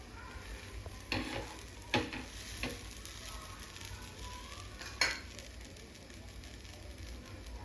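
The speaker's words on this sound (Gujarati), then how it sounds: "પછી આ પરાઠો નાખીશું અને ધીમા તાપે થોડો થવા દઈશું" An aloo paratha cooking on an oiled griddle pan over low heat gives a soft, continuous sizzle, broken by a few brief louder crackles and scrapes.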